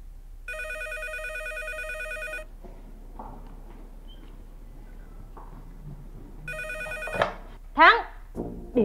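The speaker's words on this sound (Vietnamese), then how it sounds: "Điện thoại nè em." An old-style telephone bell rings in two bursts, the first around two seconds and the second shorter, indoors in a Vietnamese drama scene, followed by a woman picking up and talking.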